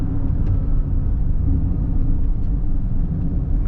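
An Audi Q8 with four-wheel drive is pushed through winding canyon corners, giving a steady, loud low road and engine rumble with tyre noise that holds evenly throughout, with no talking.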